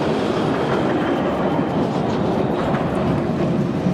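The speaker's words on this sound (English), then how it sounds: "Oil trains continue to pass through major cities, small towns, and national parks." An oil train rolls along the rails with a loud, steady rumble and a constant clatter of wheels, passing close by without a break.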